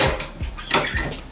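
Metal cutlery rattles and clinks in a kitchen drawer being rummaged through, three or four short jangling bursts close by with no talk.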